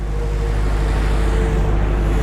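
Thermo King refrigeration unit on a Lamberet SR2 trailer hitched to a Volvo FH16 750, running with a loud, steady, close drone and a low mechanical hum.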